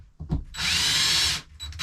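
A cordless power drill on a low clutch setting drives a screw into a wood ceiling light fixture in a 2014 Tiffin Allegro Bus motorhome: a short click, then one steady whirring burst lasting under a second.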